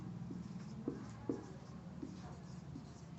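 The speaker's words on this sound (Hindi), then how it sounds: "यहाँ लिख लेंगे" A pen scratches on paper while a maths problem on irrational numbers is worked through, giving faint, quick strokes and taps close by, with quiet speech in the background.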